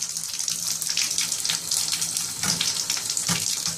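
Water pours steadily into a bathtub whose drain stopper fails to hold any of it, a continuous close, loud rushing splash with no voices.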